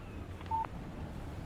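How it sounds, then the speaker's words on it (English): A short phone text message alert in the video game Alan Wake Remastered: a brief electronic beep standing out once over a low steady background hum. "Text message from Barry."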